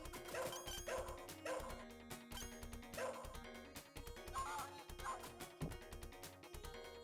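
Repeated yipping barks from the dog in the Shadow Dancer video game, spaced roughly a second apart and mixed with loud game music and sound effects.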